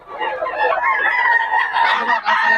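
A Chinese-breed rooster crows loudly and close at a busy market, its long strained call running unbroken for a couple of seconds.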